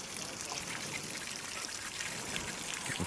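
An outdoor shower on a beach runs steadily, water streaming and splattering in a continuous close wash without pause.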